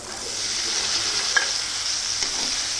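Potatoes frying in a spiced masala of turmeric and garam masala, a continuous loud sizzle with brief stirring clinks.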